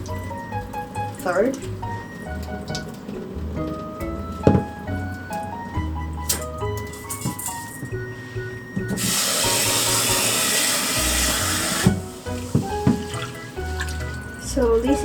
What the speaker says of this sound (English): I recommend to rinse the rice twice or else